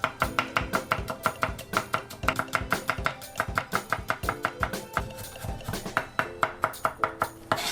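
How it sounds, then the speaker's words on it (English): A knife mincing garlic cloves on a cutting board, with a fast, steady run of close, sharp chops that keeps going throughout with only brief pauses. "I'm going to mince up a few cloves of garlic"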